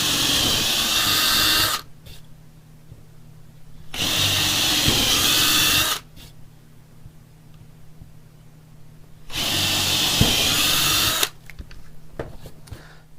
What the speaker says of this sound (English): I'm going to use a 1/4 inch drill bit to create the holes for the tuners.